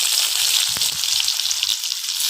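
Chopped onion with cumin, bay leaf, garlic and green chilli fries in hot oil in a wok, giving a loud, dense, continuous sizzle heard up close.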